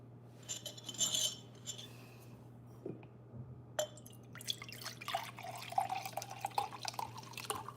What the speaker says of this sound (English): Just pouring my juice. My pink lemonade.